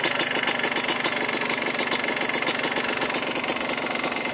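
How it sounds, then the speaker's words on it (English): A flooded two-stroke engine idles steadily at close range, its even mechanical chatter carrying a faint repeated metallic ting throughout, with no voices. "That wonderful two-stroke tinging sound."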